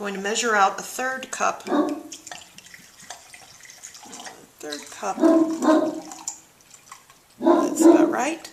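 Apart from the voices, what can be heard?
dog barking outside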